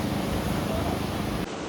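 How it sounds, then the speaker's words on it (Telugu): Steady roar of waves washing onto a rocky beach, broadband and continuous with some wind noise on the microphone, cutting off abruptly near the end. "ఇప్పుడైతే మనం ఇక్కడ రాక్ బీచ్ అంటే రాక్ బీచ్కి వచ్చినాం"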